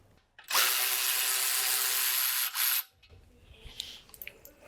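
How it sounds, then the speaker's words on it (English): Power tool on the front brake caliper bolts of a 2019-2026 BMW G05 X5, driving an E16 socket: one loud, steady whirring burst of about two seconds, a short dip, then it stops, followed by faint metallic handling clicks. "take an E16 socket and come back here on the caliper bolts and remove both"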